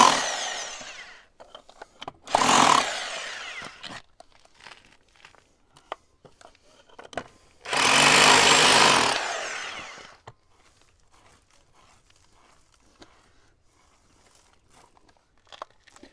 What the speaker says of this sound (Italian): vado a prendere il martello pneumatico che sta lì e lo collego